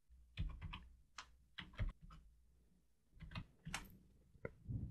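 A password gets typed on a computer keyboard in quiet clusters of quick, close, soft key taps separated by short pauses.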